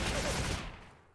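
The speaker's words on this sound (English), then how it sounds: "Who's shooting?" A short burst of gunfire in the video game StalCraft, a loud crack that fades quickly into a tail of echo within about a second.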